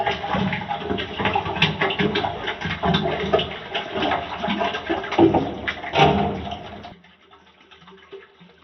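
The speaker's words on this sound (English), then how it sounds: "So the water that I'm going to use today is from the fish tank." Fish tank water pours steadily from a container onto indoor kitchen-garden plants, a continuous splashing gush for about seven seconds before stopping abruptly, leaving only faint drips and quiet room sound.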